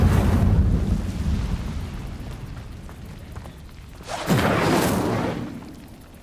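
Incendio fire spell cast in Hogwarts Legacy, a whooshing roaring burst of flame that swells suddenly, holds for about a second, then fades, following a dying rumble from an earlier cast.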